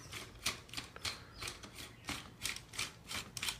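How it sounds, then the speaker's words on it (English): Quiet, close ratcheting clicks and scraping as an instrument screws a cap down onto an MIS pedicle screw, a rough rhythmic series of short gritty bursts. "I'm using one of the instruments out of the convenience kit, and that simply screws down here"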